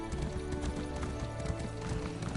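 Horse hooves clip-clopping as a mount is ridden in Elder Scrolls Online, a steady galloping rhythm of thuds repeating under ambient game music throughout.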